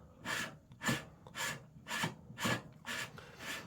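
An AR-10 receiver being lapped with lapping compound, the tool pressed down and rotated: about seven rhythmic, gritty grinding strokes, close and fairly quiet, with no talking.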